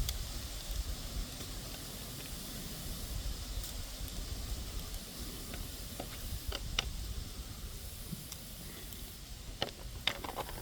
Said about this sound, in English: you guys can probably hear the wind blowing